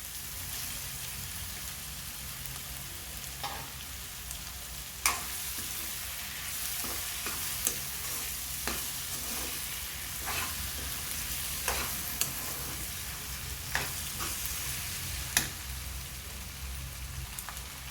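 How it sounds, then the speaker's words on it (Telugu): Macaroni fries with onions in a pan under a soft, continuous sizzle. Intermittent scraping strokes and occasional sharper clacks of a spoon against the pan come through, fairly quiet, with no voices. "ఆనియన్స్ బాగా వేగినాయి కదండి ఇప్పుడు మక్రాని వేసుకున్నాం"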